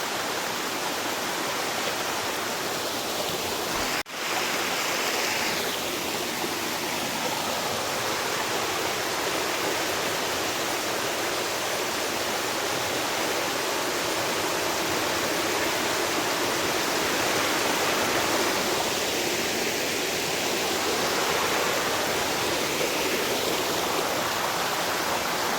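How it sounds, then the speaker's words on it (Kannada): The Kinni Majal waterfall, running with little water, gives a steady, even rush of falling water that fills the whole stretch, close by and unbroken, with one brief knock near the start. "ಕಿನ್ನಿ ಮಜಲ್ ಫಾಲ್ಸ್ ನೀರು ಕಮ್ಮಿ ಉಂಡು"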